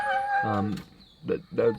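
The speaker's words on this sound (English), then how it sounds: "What you hear now is just the dogs in the box" Trail hounds in a dog box bay and howl in drawn-out, wavering cries, a long one followed by two shorter yelps, close and fairly loud.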